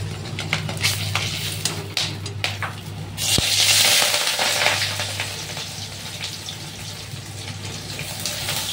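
Milk thickening in a pan, stirred steadily: scraping and stirring under a soft, bubbling sizzle, close and continuous, with no talking.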